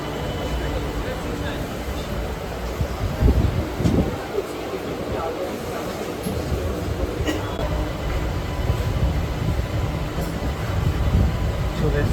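Steady rumble of a Barasat local train in motion, heard from inside a carriage, with low rolling rail noise and a couple of heavier jolts and rattles around the middle, continuous throughout.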